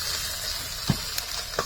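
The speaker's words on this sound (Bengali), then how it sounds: "এই মাছগুলো ভাজা চলছে দেখছেন।" Fish fry in a pan over a clay village stove fuelled with straw, giving a steady loud sizzle, with a few soft clinks and stirring knocks.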